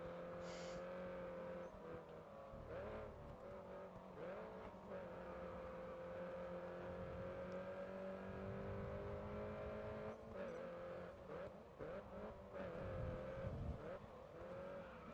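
Race cars in the racing video game GRID Autosport drone along with steady engine tones shifting through gears, a continuous moderate roar with occasional revving swells and faint tire noise.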